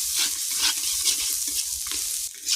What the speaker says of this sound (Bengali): এটাকে একটু ভালো করে কষাবো